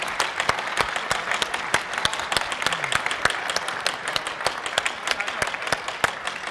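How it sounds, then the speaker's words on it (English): Keynote audience at an SOE Live gaming convention gives a steady round of applause for the DC Universe Online development team, with dense, even clapping throughout and no talking over it. "really let's give them a round of applause because they've done so much"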